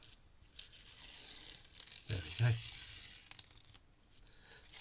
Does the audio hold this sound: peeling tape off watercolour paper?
yes